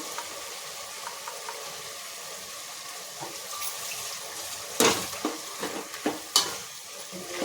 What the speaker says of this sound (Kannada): ಇದಕ್ಕೆ ಇವಾಗ ನಾನು ಮಿಕ್ಸಿ ಮಾಡಿ ಇಟ್ಕೊಂಡಿರೋದನ್ನು ಮಸಾಲೆನ ಹಾಕೋತಾ ಇದ್ದೀನಿ